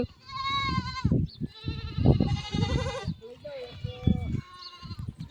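Goats bleat repeatedly nearby in loud, wavering cries, mixed with people talking over and between the calls.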